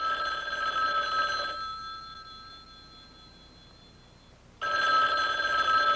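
A telephone bell rings in two loud bursts separated by a quiet pause, a close electric double-bell tone with no voices.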